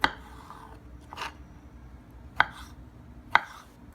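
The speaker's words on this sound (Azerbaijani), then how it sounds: "Və duzlu xiyarları doğrayırıq." A knife chops pickled cucumbers for a vegetable salad with three sharp, well-spaced strikes on a board, close and crisp over a quiet kitchen background.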